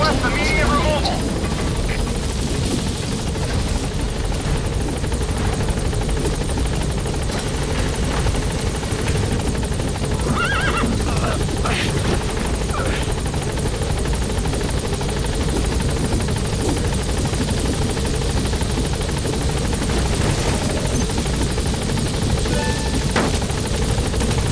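The Pequod helicopter in Metal Gear Solid V hovers over a landing zone, a loud, constant rotor roar and engine drone filling the scene while a radio voice speaks over it.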